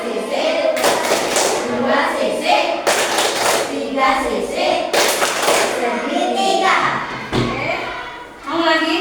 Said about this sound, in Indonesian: Kasih tepuk segitiga buat Bram, Tora dan Fitri.